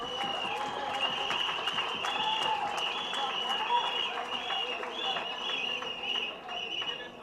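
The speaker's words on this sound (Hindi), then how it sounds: "Real heroes, Tali बजाइए।" At a Lok Satta Party seventh anniversary gathering, an audience claps in a sustained, even patter. A speaker's amplified voice talks over it and cheering rises in places.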